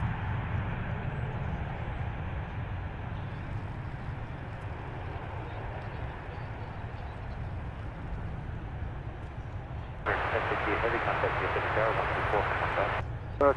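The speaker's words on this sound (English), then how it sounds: "an A321 right there taking off on 18 right and 18 left" Airbus A321 airliner taking off from DFW airport, a sustained low engine roar from a distance with a person talking over it, followed by a brighter hissing burst near the end.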